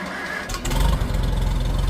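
A farm machine's engine bought at auction cranks and catches, settling into a loud, steady low rumble close by after a brief lighter start.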